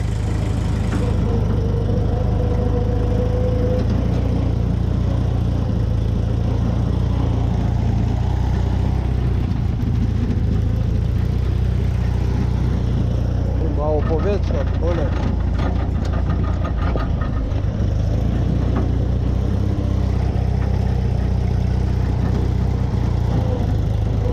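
The engine of a homemade SAM tractor built on a Fiat 126p idles unevenly and loudly because of a badly adjusted carburetor, its low drone sputtering and bogging down under throttle midway before settling, with a voice talking over it at times.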